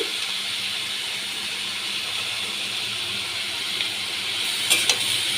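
Bottle gourd with turmeric and salt cooks in a pan for lau ghonto, a steady dense sizzle and hiss holding close and even throughout, with a couple of brief scraping stir clicks near the end.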